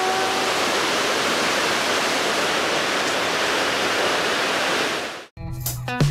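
A waterfall at Lake Chuzenji in Japan, a loud, steady broadband roar of falling water heard up close for about five seconds before it cuts off abruptly.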